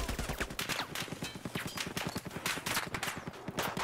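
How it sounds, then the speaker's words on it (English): Sustained, rapid bursts of M240B machine gun fire in Battlefield 4, loud and close, with dense rhythmic shots continuing throughout. "Is that you just randomly shooting?"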